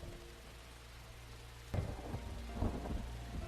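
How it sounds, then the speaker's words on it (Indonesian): Heavy rain pours steadily through a dark night scene in the film Ninja Assassin, then a loud, close thunderclap cracks midway and more rumbling thunder rolls over the downpour. "Deras hujan disertai petir menghiasi suasana gelap di malam itu"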